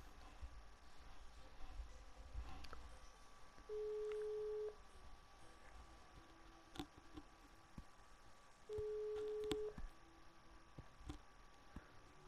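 A telephone call being placed during a Terraria gaming session, two clean steady ringback tones about a second each, spaced several seconds apart, faint under a quiet background with scattered ticks.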